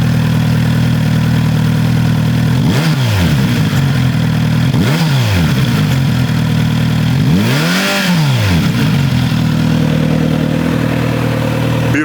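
A Kawasaki Z900 RS motorcycle engine idles loud and close, and the throttle is blipped three times, each rev rising and falling smoothly before it settles back to a steady idle.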